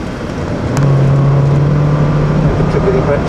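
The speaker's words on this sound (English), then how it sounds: "Now we are in the Honda City, flipping over to the left side and then braking hard." A Honda City on a race track braking hard, with ABS intervening, heard from inside the car as a steady loud road and engine roar with a sustained low tone, with talk over it.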